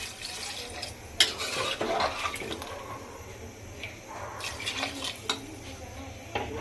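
Water poured into mutton shinwari karahi in a pot is stirred with a utensil, giving sloshing and scraping sounds with a few sharp metallic clinks against the pot.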